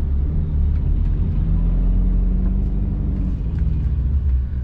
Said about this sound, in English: We've got a city bus here.